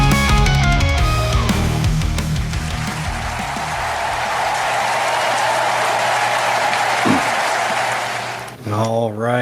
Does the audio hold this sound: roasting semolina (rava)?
no